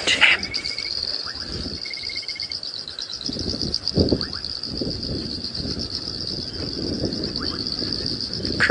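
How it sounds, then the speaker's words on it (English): A dense evening chorus of frogs calling on a safari drive at sunset, a steady high-pitched trilling drone with scattered chirps layered over it, continuous and fairly loud throughout. "I can hear, all the frogs are here"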